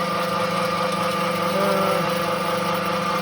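A Chinese pellet mill granulator runs steadily close by, giving a continuous mechanical drone with a faint tonal whine rising briefly midway and no pauses.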